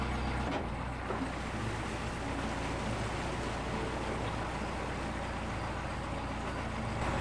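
A narrowboat pulls away beside a canal lock, its engine a steady low rumble with a broad wash of water noise filling the whole stretch, close and continuous.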